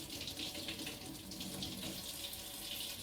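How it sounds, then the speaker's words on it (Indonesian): Water running steadily from a tap at medium flow into a sink for handwashing, a continuous close splashing hiss with no voices. "mengalirkan air di keran ukuran sedang"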